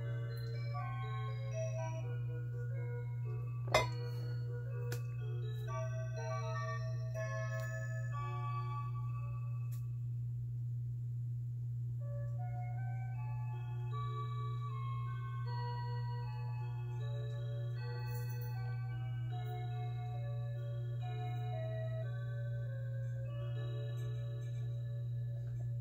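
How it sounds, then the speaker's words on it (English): A museum clock ticks and chimes, with a sharp strike early on and a sequence of ringing tones over a steady low hum throughout. "So you get to hear the clock."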